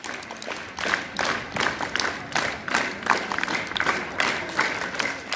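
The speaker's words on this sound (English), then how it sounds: "Everybody, produce louder sound by clapping." A crowd of students and audience members claps loudly in a rhythmic, fairly even beat for the smart students, with a dense, close round of applause continuing throughout.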